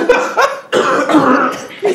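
Someone coughs hard several times in quick bursts, close and loud, with a short pause between fits.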